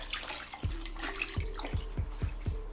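Aquarium filter sleeve squeezed out into a bucket of tank water gives a quiet series of close drips and splashes at irregular intervals over a faint background hiss.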